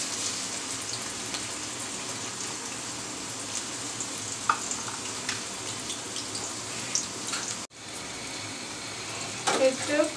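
Chopped onion frying in a pan for a tilapia fish dish, a continuous crackling sizzle with scattered pops and a brief dropout near the end, followed by a few louder scraping stirs.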